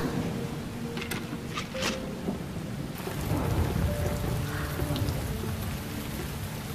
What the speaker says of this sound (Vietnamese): Trời mưa lớn quá